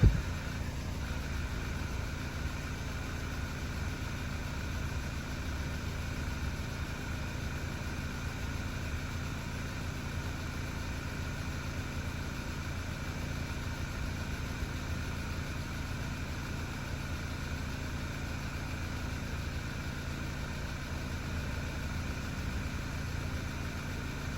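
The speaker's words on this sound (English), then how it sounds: "We're just gonna sit here and let it idle and let it clear up." An Audi/VW 2.0T turbocharged engine idles steadily, a close, even low hum and rumble with no change in speed for the whole stretch.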